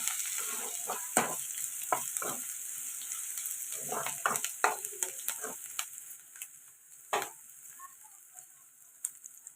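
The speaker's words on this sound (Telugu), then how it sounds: "ఉల్లిపాయలు ఇలా ఫ్రై అవుతున్నాయి కదండి" Onions with curry leaves frying in a pan for chicken gravy curry, a steady close sizzle with scattered clicks and scrapes of stirring, gradually easing off, with no talking.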